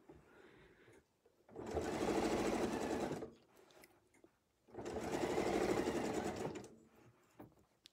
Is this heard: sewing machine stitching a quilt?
yes